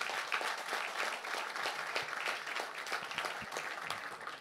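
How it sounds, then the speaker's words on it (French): Audience at a seminar on using business cash flow giving steady, moderately faint applause, with many hands clapping continuously throughout. "On peut l'applaudir."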